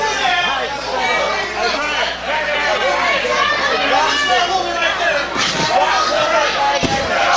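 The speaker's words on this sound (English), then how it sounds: "Slammed him on the floor." Wrestler slammed onto the arena floor at a CWF Mid-Atlantic Wrestling event, a couple of dull thuds late on under constant crowd chatter and loud commentary speech.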